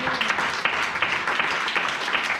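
A church congregation applauds in praise, a steady, dense patter of many hands clapping close by for a couple of seconds with no break.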